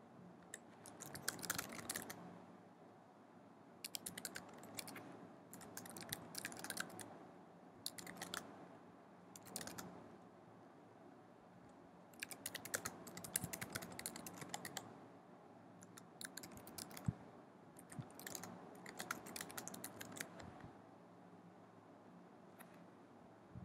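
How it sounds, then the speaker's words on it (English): Quiet typing on a computer keyboard in bursts of rapid key clicks with short pauses between, close and faint, with no voices. "Okay, I'm going to type a bit more on the text,"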